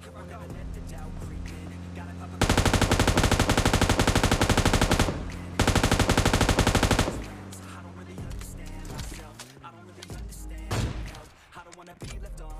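Loud automatic weapon fire rips out in two long, rapid bursts in a mobile battle royale shooter, followed by scattered single shots and a passing vehicle, all over background game sounds while someone talks.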